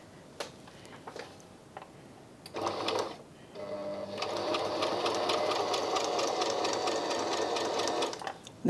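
A Brother My Star 3 sewing machine stitches a buttonhole: a brief whir of stitching, a short pause, then a longer steady mechanical run of rapid stitching that continues for about four seconds before stopping.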